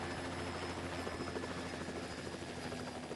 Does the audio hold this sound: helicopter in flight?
yes